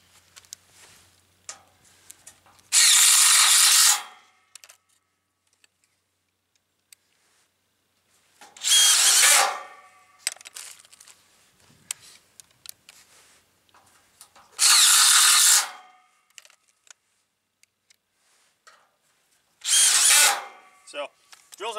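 A power drill drives screws into thin-gauge metal truss framing in a shop, four separate loud bursts of a second or so each, spaced several seconds apart, with quiet handling clatter between.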